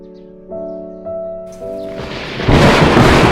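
A thunderstorm with strong wind outside builds from a few sustained musical tones into a loud, rumbling, roaring rush of wind and storm noise that swells in the last second.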